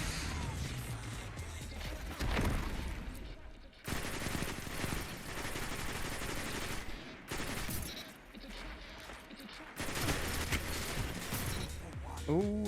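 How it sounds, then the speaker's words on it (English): Rapid automatic gunfire from an auto rifle in Destiny 2 PvP, sustained bursts broken by brief pauses, loud and continuous through most of the stretch with clattering impacts. "Oh, I love this auto rifle."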